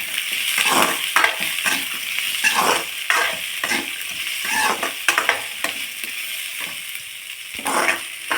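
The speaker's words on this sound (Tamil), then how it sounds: "இது எல்லாத்தையுமே நம்ம ஒன்றாவே வதக்கிக்கலாங்க" Dried red chillies sizzle and crackle in hot oil in a pan, with steady frying hiss and repeated stirring scrapes, close and fairly loud, no talking.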